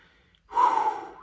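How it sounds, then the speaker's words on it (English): A single deep breath drawn in and let out, short and close, starting after a brief near-silence. "Deep breaths."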